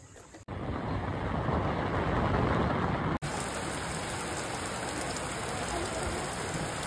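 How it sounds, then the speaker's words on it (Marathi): Sudden rain in a village setting, a dense, steady hiss of drops on surfaces, loud and close, breaking off briefly between two continuous stretches, with no one speaking. "मघाशीपासून वातावरण एवढं क्लिअर होतं आणि आता अचानकच पाऊस आलाय बघा."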